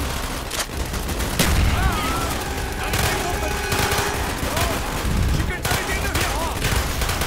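Rapid gunfire bursts and explosions from the Call of Duty: Black Ops campaign mission Project Nova, a dense continuous battle din with sharp cracks throughout.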